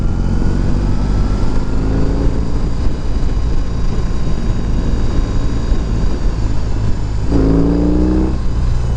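A BMW R18 motorcycle engine rumbling steadily with a brief throttle rev near the end, heard from the rider's position under constant wind noise.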